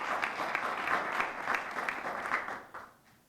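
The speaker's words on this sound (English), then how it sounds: "I'd like for them to just give you a round of applause." Audience at a disability rights rally with the mayor applauds steadily for a thanked attendee, a dense close wash of clapping that fades toward the end.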